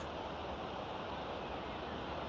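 A steady, broad wash of surf and ocean breeze at the San Diego oceanfront, continuous and fairly loud with no distinct breaks or voices.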